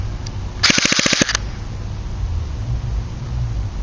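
A DE M81 V2 airsoft gun fires a short full-auto burst of about ten sharp, evenly spaced shots, loud and close, then steady outdoor background hiss.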